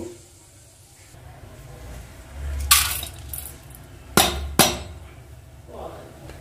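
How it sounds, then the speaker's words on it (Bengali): Drained basmati rice tumbles from a strainer into another pot, heard as a soft rushing pour followed by two sharp knocks of the strainer against the pot, close and without speech. "এবার এটা অন্য একটা পাত্রে আমি ঢেলে দেব"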